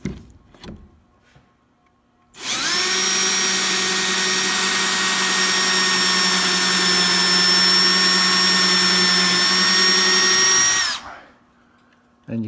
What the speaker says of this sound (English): This is the pocket hole jig I'm using for drilling the holes